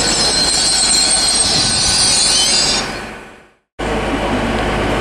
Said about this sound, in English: arriving now is a terminating Great Western Railway service of the Oxford carriage sidings